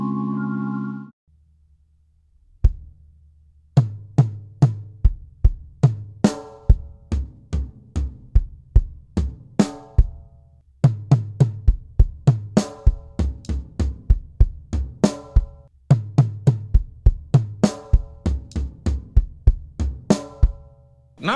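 Full gospel drum chop fill on toms, kick and snare, fast and dense with rapid tom runs and deep kick thumps under bright snare and cymbal accents, loud and continuous for about twenty seconds without speech.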